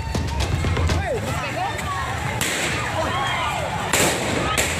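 Police fire warning gunshots while arresting a man in South Sulawesi, a few sharp, loud cracks standing out above a noisy crowd whose shouting and talking continues throughout.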